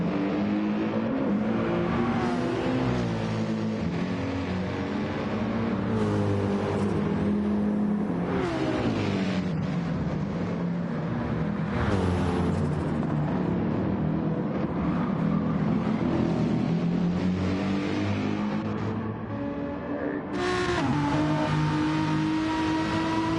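BMW Gr-3 race car in Gran Turismo accelerating down the start-finish straight toward top speed: a continuous loud engine roar climbing in pitch through the gears, with brief gaps at gear shifts.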